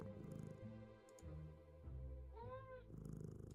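A cat in the Nancy Drew Mystery of the Seven Keys video game, soft purring and a brief rising meow over low game music, with no talk.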